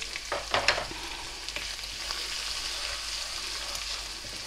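Coriander, cumin and garlic-ginger paste fry in hot oil in a pan, giving a steady close sizzle with a few scraping stir knocks near the start, no voices.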